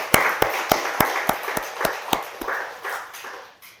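A church congregation claps for the teachers in a steady series of sharp, fairly close claps that thin out and fade over a few seconds.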